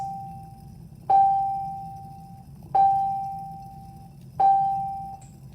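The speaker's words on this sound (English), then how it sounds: "Dang bells." School bells ring during a chemistry lab, three evenly spaced electronic tones, each struck sharply and then fading, alone in a quiet room.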